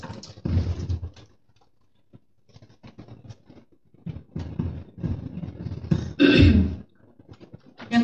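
A woman clears her throat and coughs several times in short, harsh bursts between quiet pauses. The strongest rasping cough comes late, and the sounds are close and loud in an indoor setting.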